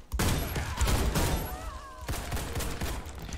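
A shotgun fires repeatedly in the online shooter Warface, sharp loud blasts in quick bursts with ringing in-game effects between the shots.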